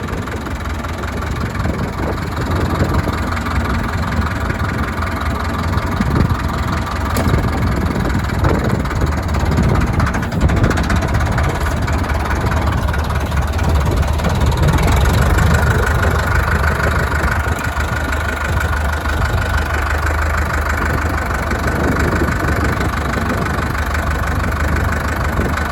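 An old, small, reliable tractor engine idling on a cattle farm, a loud, steady low rumble with an even mechanical throb running close up throughout.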